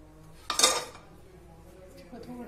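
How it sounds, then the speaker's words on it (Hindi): Cooked risotto gets turned out of a pan into a serving dish, giving one quick clatter of metal and crockery knocking together, then a softer clink; a faint voice speaks quietly under it. "अब हम इसे अपनी डिश में पलट लेंगे।"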